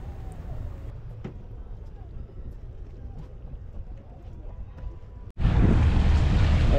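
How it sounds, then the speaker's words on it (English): A motorboat pulling off a sandbar at Islamorada, with wind and water noise under a low hum before the engine suddenly roars up loud and steady near the end. "I go ahead and put the boat in forward, make sure the wind doesn't take me back into the sandbar"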